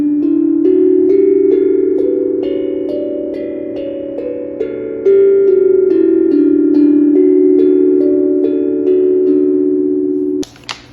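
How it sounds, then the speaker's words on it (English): Resonant metallic tones from a Lekato steel tongue drum played with rubber mallets ring out one note at a time in a slow melody, each softly struck and sustaining, ending with a brief clatter. "I'm going to be testing out a new steel tongue drum today"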